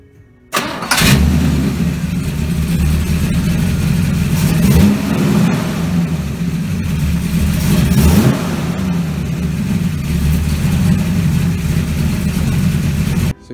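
A car engine cranks and fires about a second in, then settles into a steady, loud idle with a couple of brief revs, running until the end, with no talking over it.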